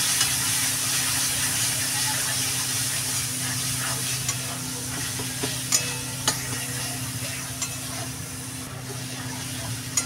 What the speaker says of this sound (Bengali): বড় 1 টেবিল চামচ লঙ্কা গুঁড়ো দিয়ে দিলাম। ভালো করে মশলাটা মিশিয়ে নেবো।